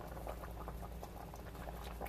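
Seafood chowder, dairy free, boils steadily in a pot, a dense continuous bubbling and popping patter that stays loud and even throughout.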